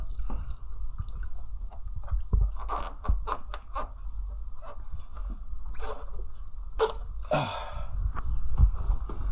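Water is flushed through an engine that was cleaned with shampoo, giving irregular splashing, dripping and gurgling bursts close by over a constant low rumble, with no talk.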